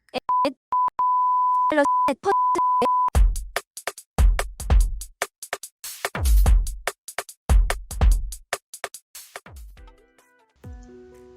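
A phone rings in repeated electronic beeps for about three seconds, then gives way to deep thuds and knocks, with scattered tones near the end.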